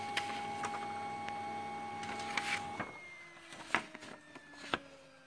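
A printer with a newly replaced paper feed roller whirs steadily, then gives a series of ticks and clicks as paper moves through the mechanism, all close and without speech.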